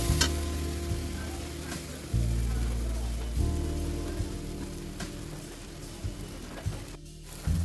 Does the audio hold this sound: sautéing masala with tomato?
yes